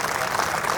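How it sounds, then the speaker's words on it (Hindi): Brief, moderate clapping from an audience at a Hindi comedic poetry recital, a short continuous patter of applause with no talk over it. "एक बार ताली बजा दो"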